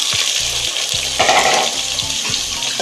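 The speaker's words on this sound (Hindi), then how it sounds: "बस 2 मिनट मैंने आलूओं को भूनना है, इसको फ्राई करना है इसी ऑयल में।" Potatoes fry in hot oil after browned onions, a constant loud sizzle close by, with dull knocks of a utensil against the pan every half second or so.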